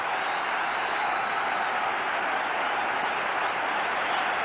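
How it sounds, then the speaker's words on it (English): A cricket crowd in a Border-Gavaskar Trophy match against Australia applauds Azharuddin's innings, a steady, even wash of clapping that fills the whole stretch without a break. "And the crowd very appreciative."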